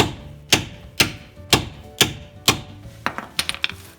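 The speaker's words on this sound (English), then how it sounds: "just to break them loose a little more, you can just take a hammer" Sharp metallic hammer blows on brake rotor bolts of a Honda Pilot, five evenly spaced strikes followed by a quicker cluster of lighter taps, close and loud.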